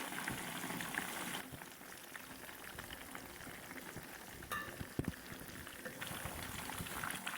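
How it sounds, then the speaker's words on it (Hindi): Fish fries in a pan, a steady close sizzle that continues throughout with a couple of brief clinks, and no one talking. "इसको 5 मिनट इस साइड पर फ्राई होने देते हैं।"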